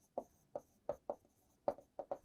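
Pen strokes writing out the solution to a linear equations maths problem, seven short distinct scratches in a steady rhythm, close and alone with no voice.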